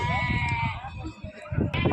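Sheep bleat loudly and repeatedly at the Gudur sheep market, over a noisy, crowded background, with overlapping animal calls close by.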